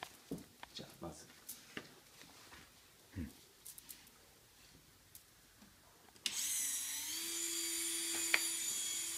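A rotary polishing tool spins up on silver with abrasive compound, a steady loud whir that holds alone after a stretch of scattered handling taps and people talking.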